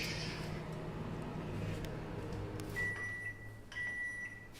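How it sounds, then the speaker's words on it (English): A microwave oven in a home kitchen hums steadily, then gives two short, faint high-pitched electronic beeps near the end, with no talking. "That's the sound of the microwave."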